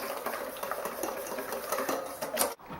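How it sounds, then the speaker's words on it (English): An egg is whisked into Yorkshire pudding batter, giving a rapid, steady clatter of whisk against bowl for a few seconds that ends abruptly, close and with no voices. "And an egg. Going to whisk that up."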